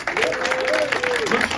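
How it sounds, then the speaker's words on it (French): Applause from a Christmas party audience for a man called up for a talent-show segment, dense clapping mixed with a sustained tonal voice or cheer gliding above it, loud and close for under two seconds. "je voudrais bien que tout le monde fasse un tonnerre d'applaudissements pour Monsieur Pierre"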